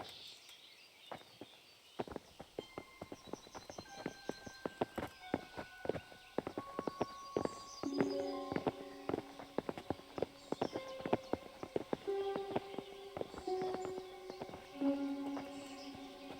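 Horses clip-clop at a walk in the medieval video game Kingdom Come: Deliverance, a steady run of hoof knocks drawing nearer and louder over a faint ambient bed with music-like tones.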